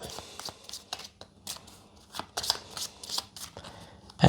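Realm cards from the board game Rolling Realms being shuffled by hand in a quiet room, a run of crisp riffling flicks and slides close up, ending in a louder thump.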